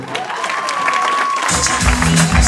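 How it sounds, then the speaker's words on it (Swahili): After a brief murmur, a comedy show audience breaks into loud clapping and cheering that continues to the end. "Makofi"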